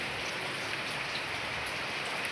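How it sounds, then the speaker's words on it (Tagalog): Heavy rain pours down steadily, a dense constant hiss of drops on surfaces with no pauses or voices. "Ang weather, maulan na maulan."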